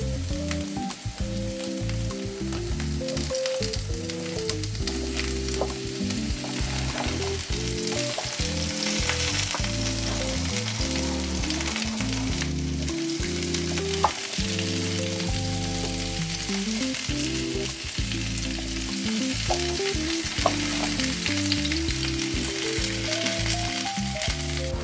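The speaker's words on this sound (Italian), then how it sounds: "adesso aggiungiamo anche le zucchine" Zucchini sizzles steadily in a hot pan, with repeated stirring scrapes and clatters over constant frying, close and alone without talk.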